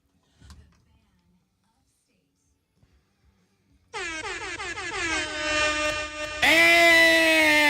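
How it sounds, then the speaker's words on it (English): Air horn blasts during a live show, a long loud blaring tone that jumps to an even louder, harsher blast near the end, following a quiet stretch with a brief thump. "The air horn got you."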